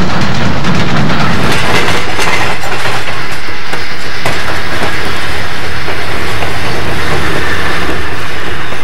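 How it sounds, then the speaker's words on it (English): Southern Pacific-style cab forward steam locomotive 4274 pulls its train uphill near Newcastle toward Auburn, a loud, close, continuous roar with rhythmic clickety-clack of wheels and hissing, no voices. "4274 accelerates her train uphill again, bound for Newcastle and Auburn"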